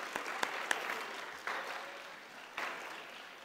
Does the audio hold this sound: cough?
no